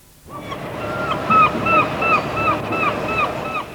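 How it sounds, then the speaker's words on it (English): Repeated gull cries ring out over a steady wash of surf and wind in Scarborough, the calls coming in a loose rhythm close by. "you can bet there'll be a seagull somewhere nearby"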